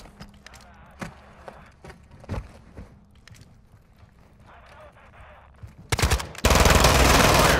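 Scattered single gunshots crack now and then during a video game hostage-extraction mission, ending in a loud, sustained burst of rapid fire.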